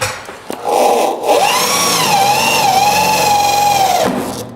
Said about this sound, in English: So we're going to go ahead and drill this hole.